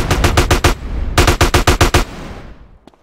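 Rapid automatic gunfire in GTA San Andreas rattles out in two loud, close bursts of evenly spaced shots, then a reverberant tail fades into quiet with a few faint clicks.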